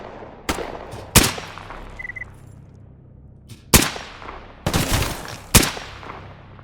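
Five sharp, loud single gunshots from an upgraded gun in the video game Stalker Gamma, irregularly spaced with short echoing tails, the last three coming closer together, and no talking.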